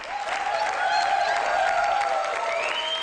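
Studio audience applause for a performer on a stage show: steady, dense clapping, loud and sustained throughout, with faint tonal music underneath.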